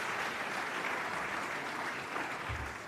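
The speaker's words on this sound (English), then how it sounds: "Let's give Senator Manchin a big clap," Audience at a rural summit applauds Senator Manchin, a dense and steady wash of clapping from a sizable crowd that holds evenly for a few seconds, with no voices over it.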